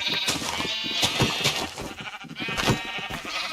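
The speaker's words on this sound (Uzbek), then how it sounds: "qo'ylarni o'ldirishga to'g'ri keldi" Sheep bleating in the video game Minecraft, several repeated wavering bleats in quick succession, loud and close, with no talking.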